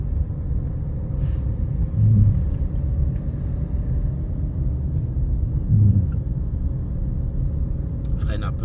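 A manual car pulls away in a driving lesson as the clutch is eased out, a steady low engine rumble close by inside the cabin while an instructor speaks.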